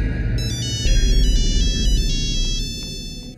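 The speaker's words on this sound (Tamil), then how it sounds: "எவ்வளவு நேரமா அடிக்குது தெரியுமா? என்னோட ஸ்டூடெண்ட் தான் ஃபோன் பண்றான்." A mobile phone rings with an incoming call, a bright repeating electronic ringtone melody sounding close and loud with no talk over it.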